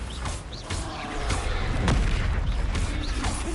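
Bombarda spell explosion in Hogwarts Legacy, a heavy booming blast amid dense magical battle effects, with a rumbling low end swelling through the middle and continuing clatter and whooshes.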